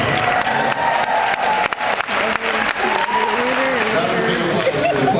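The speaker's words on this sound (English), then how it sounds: "Not a big applause for the plumbing" A theatre audience at a live ghost-hunting event at the Royal Oak Music Theatre applauds and cheers, with a dense wash of clapping and some whoops while an amplified voice talks over the crowd.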